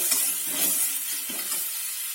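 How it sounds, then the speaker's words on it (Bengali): Ginger paste frying in a pan with browned onions, a steady close hiss and sizzle with soft stirring scrapes, no talk. "আদাটি ভালোভাবে কষিয়ে নেব।"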